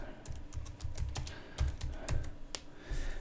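Quick, light clicking of keys on a computer keyboard while text is typed into a Microsoft Excel 2013 text box, an irregular patter of close taps with no talk.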